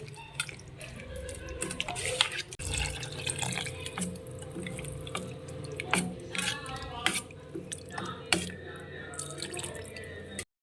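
Water from rinsing a mixer jar pours into a pan, dripping and trickling for about ten seconds alongside light clinks, with soft kitchen clatter and no voices.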